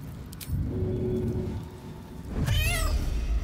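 A cat meowing in Baldur's Gate 3, a single rising, wavering yowl near the end over a steady low game rumble and background noise.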